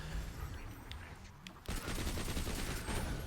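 Rapid gunfire from a weapon in the video game Borderlands 2, a dense burst of shots that swells loudly midway and continues steadily to the end.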